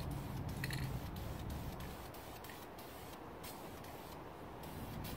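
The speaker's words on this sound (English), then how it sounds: "With this fan tip, it does a real nice job of spraying it on smoothly." Aerosol spray can with a fan tip spraying paint onto a prototype Batman build, a continuous soft hiss held steadily at close range, quiet with no talk.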